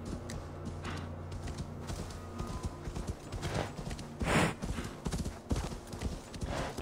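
A horse's hooves clip-clop along a road in Assassin's Creed Valhalla, a steady close rhythm of hoof strikes with creaking tack and a few heavier thuds, no talking over it.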